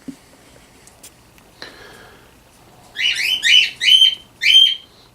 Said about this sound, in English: I do apologize for the birds.